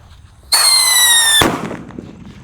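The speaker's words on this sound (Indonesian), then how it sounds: "yang kita nyalakan di sini ada Pearl Thunder bosku" A Pearl Thunder firecracker goes off in one loud, sharp blast, beginning with a bright whistling screech and ending in an abrupt bang whose echo fades quickly.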